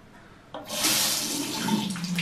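A faucet in a house is turned on and water gushes out at once into a sink, a loud steady splashing stream that continues to the end.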